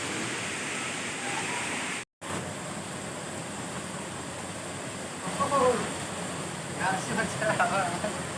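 Jadi waterfall in South Garo Hills, Meghalaya, pours as a steady broadband rush, constant and fairly close, with a brief dropout and faint voices near the end.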